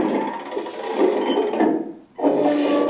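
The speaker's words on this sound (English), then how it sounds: "Elevation sound." Grinding, raspy motor whir from a customized full-metal 1:16 scale M1A2 Abrams RC tank elevating its gun, close and steady, with a brief dip before the mechanism resumes; no talking.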